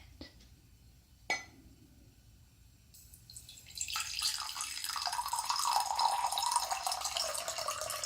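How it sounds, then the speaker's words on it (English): Water pours into a container, starting after a clink and a few quiet moments, then a growing close splashing gurgle that fills out and continues steadily, with no talk over it. "I'll pour the water into it."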